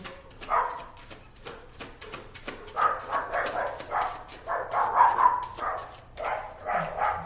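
Several dogs bark in repeated, excited bursts, fairly close and loud, with yips mixed in and a steady low hum beneath.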